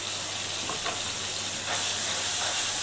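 Onion, garlic-ginger paste and tomato sauté in a pan, giving a steady close sizzle with a soft hiss and faint stirring scrapes, no voices.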